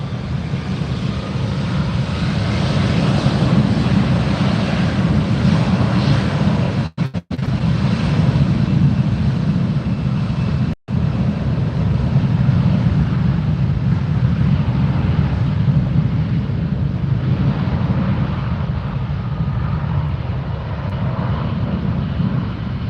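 A JetBlue jet airliner passes at Fort Lauderdale airport, heard from the perimeter fence as a loud, steady roar of jet engines with broad rushing noise and some wind buffeting.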